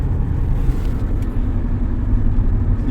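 A car shaking and rumbling under acceleration, a heavy low drone of engine and road vibration heard from inside the cabin, loud and steady throughout with no talking.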